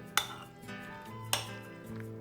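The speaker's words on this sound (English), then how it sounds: "Just going to mix it through nicely" Pineapple and carrot salad with mayonnaise being stirred in a bowl, a few sharp clinks of a utensil against the dish at intervals over soft scraping.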